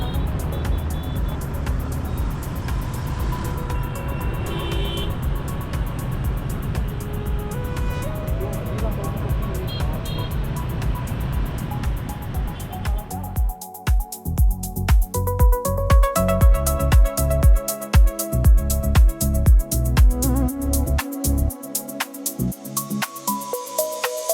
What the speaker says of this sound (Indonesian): Hiruk-pikuk kendaraan mulai terasa, motor saling bersahutan klakson, mobil bergerak perlahan di antara padatnya arus.